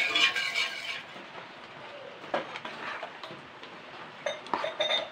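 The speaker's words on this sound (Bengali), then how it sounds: "এরপরে তেলটাকে আমি সারা জায়গায় করে দেবো, চাটুর মধ্যখানটা।" A metal spoon spreads oil across a hot iron griddle for instant dosa, giving close, intermittent scrapes and clinks with no voices.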